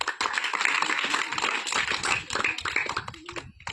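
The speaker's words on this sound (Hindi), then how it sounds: "एक बार जोरदार तालियां।" A village meeting audience claps loudly and densely, with many hands close by in a sustained burst that thins out toward the end.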